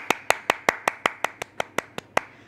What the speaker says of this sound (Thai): ปรบมือทุกคนค่ะ